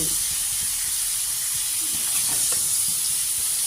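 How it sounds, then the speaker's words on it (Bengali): Carrots and potatoes fry in a pan with a steady, close sizzling hiss and faint stirring scrapes, no speech. "ভাজি করতেছি গাজর, আপনার আলু আর কি"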